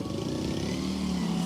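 A motorcycle ridden past by neighbors, its engine droning steadily and fairly loud throughout with a low rumble that holds its pitch, no voices over it.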